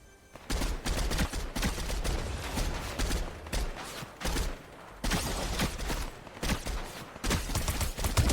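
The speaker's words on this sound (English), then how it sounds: "Someone shooting at me." Gunfire in Fortnite, with repeated bursts of shots rattling in clusters with short pauses between, loud and close, mixed with game sounds.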